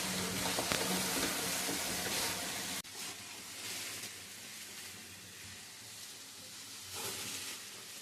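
Biryani rice, meat and potatoes sizzling and frying together in a pot while being stirred, a steady close hiss with a brief break partway through.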